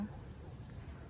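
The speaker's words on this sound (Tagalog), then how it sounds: "Kuliglig." Crickets chirp in a steady, faint, continuous high drone on a quiet late afternoon in the provincial countryside of Tagaytay, Philippines, with soft ambient background and no talking.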